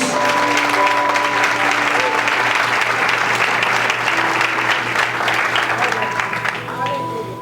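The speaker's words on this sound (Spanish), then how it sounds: "Dale un aplauso fuerte a Jesús" Strong, sustained applause from a church congregation fills the room, with voices and tonal sound mixed underneath before the clapping thins slightly toward the end.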